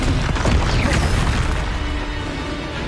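The Expulso explosion spell cast in Hogwarts Legacy bursts with a loud, rumbling boom, followed by dense, crackling debris that slowly fades over a few seconds.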